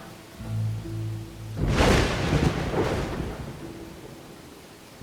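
Winter storm in the game Dawn of Man: a low whooshing gust swells into a broad rumble of thunder that rolls on and slowly fades, with faint tonal game sounds before and after and no talking.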